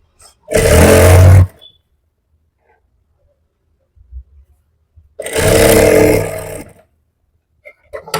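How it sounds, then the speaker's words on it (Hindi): Two loud, steady bursts of a sewing machine stitching salwar fabric, each running about a second near, separated by quiet with faint handling noises. "अब हम इसको सिलाई लगा लेते हैं।"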